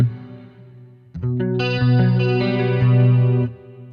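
Electric guitar run through an Axe-Fx with a phase-reversed stereo delay on the right side, notes picked one after another into a ringing chord with chorus-like shimmer. The chord holds steadily, then cuts off into a faint trailing tail.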